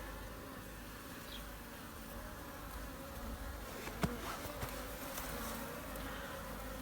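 Continuous low honeybee buzzing in cold weather, steady and faint, with a few brief clicks and taps near the middle; no voices.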